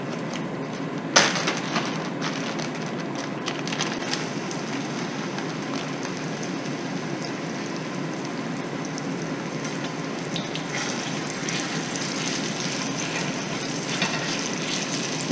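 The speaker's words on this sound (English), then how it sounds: "when you put the meat in the pot, that it sears and it browns the meat" Meat searing and browning in a hot 7.5-quart Dutch oven for carne guisada, a steady close crackling sizzle that holds evenly throughout, with a sharp pop near the start and light clinks of utensils against the pot.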